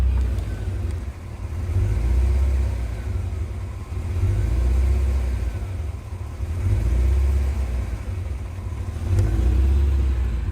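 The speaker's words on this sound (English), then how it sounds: "if you listen, you can hear the motor" A 1984 Corvette engine idles roughly and runs badly, a low steady rumble that surges and sags in uneven swells, heard alone and close.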